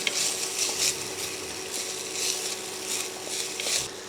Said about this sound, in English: And 1 tablespoon of garlic. Stir to combine and cook for about 1 minute.